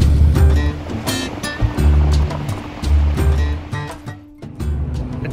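Rushing river water at the Reversing Falls, the tidal river near the Fundy coast, roars as a steady, loud churning wash with surging swells, heard alone with no talk over it.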